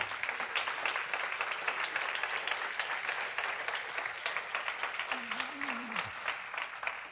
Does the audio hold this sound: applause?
yes